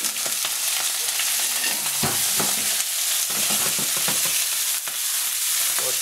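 Loud, constant sizzling of Brussels sprout leaves frying in hot oil, with crackles and occasional scraping as they are stirred in the pan.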